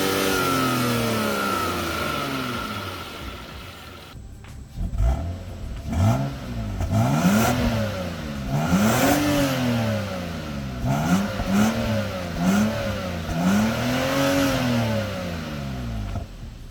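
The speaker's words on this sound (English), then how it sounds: "let's give it some revs so you guys can hear." A Volvo XC90 straight-six engine idles, then gets a series of quick revs, about half a dozen rising and falling swells in pitch, close and loud with no talking.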